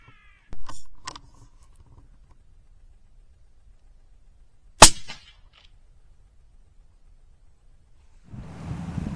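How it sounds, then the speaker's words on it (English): Hooded crows on a hillside give a couple of short, harsh caws early on, followed by a single sharp crack and a brief burst of rushing noise near the end, with quiet between. "what about another couple of hooded crows on the hill?"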